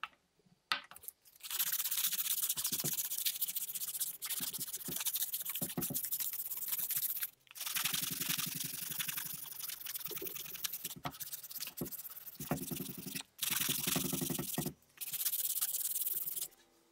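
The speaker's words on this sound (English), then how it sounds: "let's get to sanding." Sandpaper rubbing back and forth over a wooden flat-sided crankbait lure body, close and steady in long continuous bursts separated by brief pauses, with no talking.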